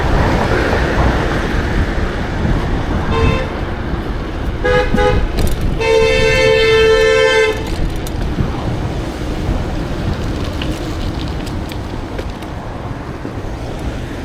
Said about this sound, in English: there's a lot of traffic right now